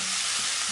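Spice paste sizzles in hot oil in a wok, giving a bright, steady frying hiss over a brief moment with no voices.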